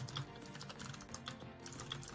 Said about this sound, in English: Freaking typing.